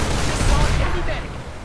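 A fast, rattling burst of gunfire from the F2 weapon in a Planetside 2 battle, loud and close with a dull booming low end, fading off after about a second.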